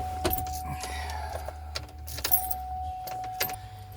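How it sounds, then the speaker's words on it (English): A car key jangles and is pushed into the ignition of a 2005 Buick LaCrosse 3.5 liter, then turned on, with a series of close clicks and clunks over a steady low electrical hum and chime tone. "Gotta stick the key in and turn it on."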